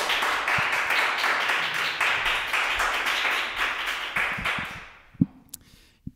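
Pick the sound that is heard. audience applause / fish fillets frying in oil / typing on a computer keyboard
audience applause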